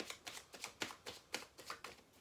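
Tarot cards being shuffled by hand, a quick run of about ten soft riffling bursts in a steady rhythm, close and quiet with no voices.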